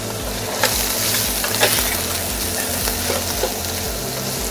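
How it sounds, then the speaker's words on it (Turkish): Hot pepper tomato paste fries in oil in a pan, giving a dense, loud, steady sizzle with a few soft stirring scrapes, while cooking a minced meat and cauliflower dish. "Salçayı mutlaka yağla kavuruyoruz ki o çiğ tadı gitsin"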